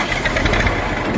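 A tractor engine idles steadily at close range, a continuous low rumble with a faint knocking vibration running through the whole short stretch, with no talk over it.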